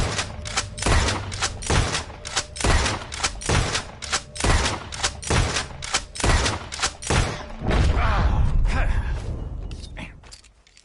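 Gunfire in the Western video game Red Dead Redemption 2, a rapid series of loud, close rifle and pistol shots in an uneven rhythm, with mechanical clicks between bursts and a few spoken lines.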